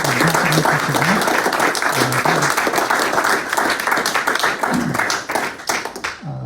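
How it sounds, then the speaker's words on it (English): Lively audience applause for poets at a poetry reading, many hands clapping in a dense, continuous patter for several seconds, with a few voices faintly audible beneath it before the clapping thins out at the end. "I'd like to get a round of applause for each of our poets, for Francine, for Cassidy"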